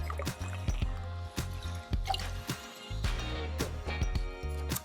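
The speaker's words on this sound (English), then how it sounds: "1/4 ounce of simple syrup, which is 1-to-1 sugar and water." Simple syrup made from sugar and water trickles into a cocktail, a soft, brief liquid pour and dribble over rhythmic background music.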